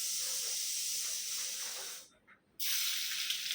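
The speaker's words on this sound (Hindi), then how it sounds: "लहसुन डाल दिए" Garlic dropped into half a cup of hot oil for a brinjal bharta sizzles with a loud steady hiss, which cuts out briefly and then resumes just as strongly, with no one speaking.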